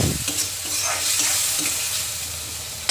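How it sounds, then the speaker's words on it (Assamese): Ginger garlic paste frying in a pan with potatoes and onions while being stirred, giving a steady close sizzle with occasional scraping stir sounds, no voices. "কেঁচা গোন্ধটো যোৱালৈকে ভাজি ল'ম।"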